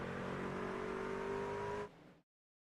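An iRacing race truck engine heard from an onboard right rear suspension camera at Sonoma, a steady, loud droning whine that cuts off abruptly near the end.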